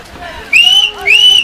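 A referee's whistle ends an under-13 youth football match in Berceni, Romania, with two sharp, shrill blasts close together over faint crowd murmur on the sideline.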